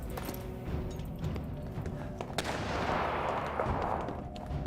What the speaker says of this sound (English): you can hear the gunshots. Those are snipers shooting at civilians.